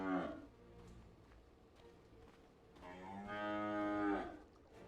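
A cow moo chat wheel sound in the video game Dota 2, a clear drawn-out bovine low, heard alone with two rising calls, one brief near the start and a louder longer one toward the end.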